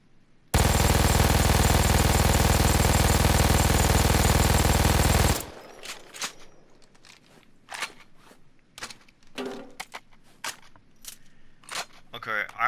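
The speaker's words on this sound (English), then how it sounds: "I also noticed that the bullets will disappear for a slight second after more continuous shots to come around" An MG-42 (Buzzsaw 42) general-purpose machine gun in Payday 2 fires one sustained, very loud, buzzing burst for about five seconds, followed by scattered clicks and mechanical handling sounds.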